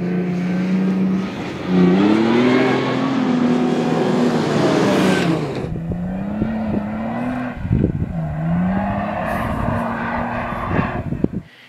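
A loud truck engine revs up and down repeatedly, rising in pitch, easing off, then surging again with several sharp throttle blips near the end.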